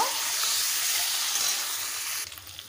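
Eggs frying in hot oil give a steady bright hissing sizzle up close, which drops off near the end into a few soft crackles.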